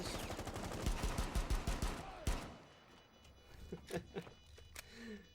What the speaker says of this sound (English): So, what is shooting? Who's shooting me?